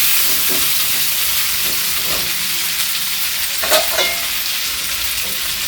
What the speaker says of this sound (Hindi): तेल गर्म हो गया, अब इसमें हम आलू डाल दे रहे हैं।